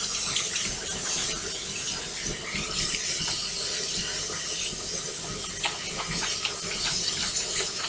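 Water runs steadily from a kitchen tap as hands are washed, a continuous hissing splash with faint clinks and rubbing throughout.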